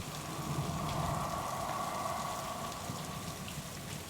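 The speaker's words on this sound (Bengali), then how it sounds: "ঝমঝমিয়ে বৃষ্টি" Heavy pouring rain used as a sound effect in a narrated story: a steady, dense hiss of downpour that stays loud and even throughout, with no voices over it.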